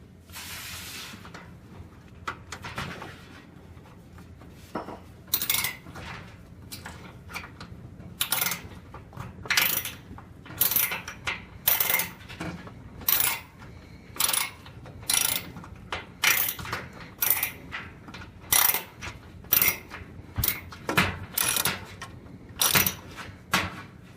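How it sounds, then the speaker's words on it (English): Quarter-inch ratchet clicks in repeated rapid bursts, close and crisp, while loosening screws on an oven igniter, the turning strokes falling into a steady rhythm after a few quieter opening clicks. "this is a 1/4 inch ratchet, and it seems to be working"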